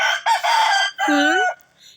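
A rooster crows loudly and close by, a long strained call in two drawn-out parts, followed by a brief faint tail.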